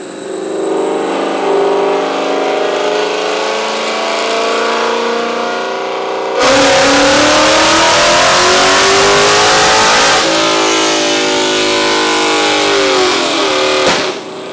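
A car engine at full throttle on a dyno, loud and close, climbing in pitch through a long hard rev, then a gear change and a second rising pull before a sharp cutoff.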